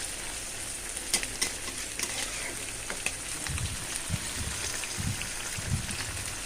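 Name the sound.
fish frying in a pan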